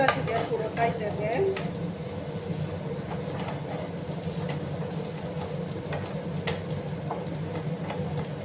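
Spiced egg and potato mixture with roasted cumin powder is stirred in a pan, giving soft scraping and sizzling with a few sharp clinks over a steady low hum, fairly close.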